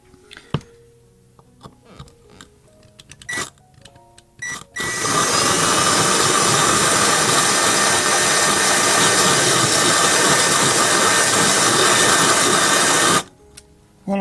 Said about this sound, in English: the good thing about this little drill is that the speed is adjustable